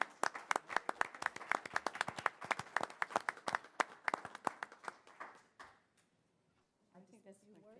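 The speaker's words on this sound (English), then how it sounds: "Let's give her a round of applause" A small group claps at a local Good Egg Award presentation, with sharp, distinct handclaps in a quick irregular rhythm for about five seconds. The clapping then fades out into near silence, and a voice begins speaking.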